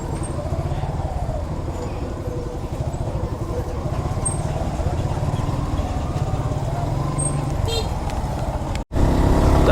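Congested road traffic of cars and motorcycles queued at a narrow one-lane bridge on a coastal marine drive, a steady near rumble of idling and creeping engines with no pause until a brief cut near the end.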